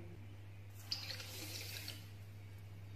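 Water is poured from a cup into a pan of sugar to make syrup for gujiya, a soft splashing pour lasting about a second over a steady low hum in a kitchen.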